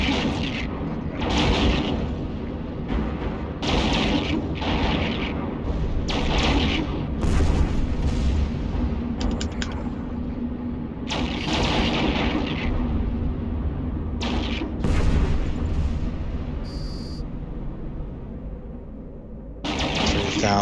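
Ship guns fire in EVE Online space combat, three turrets trading repeated booming bursts in an irregular rhythm, loud and close over a continuous low rumble, with short high-pitched interface tones between some volleys.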